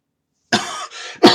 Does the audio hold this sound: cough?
yes